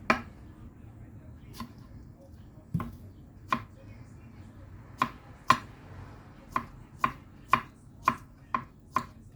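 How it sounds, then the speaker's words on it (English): A knife chops strawberries and grapes on a chopping board while preparing yogurt ice cream; crisp, sharp knocks come sparse at first, then a quicker, steady run of close, distinct cuts. "Okay, we cut the strawberry and the grapes."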